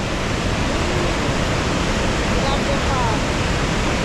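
Rushing water at a hydroelectric power station in Jharkhand, a steady, loud, broadband roar with no breaks, close and dominant throughout.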